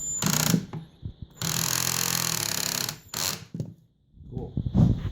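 A DeWalt pivot bit holder drives a screw tight during furniture assembly, giving close ratcheting, whirring mechanical bursts broken by short pauses.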